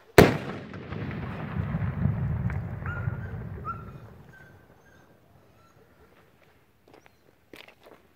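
A Supernova rocket firework goes off with a sharp, loud bang, then a rumbling, crackling burst that fades over several seconds into near silence, with a few faint pops after.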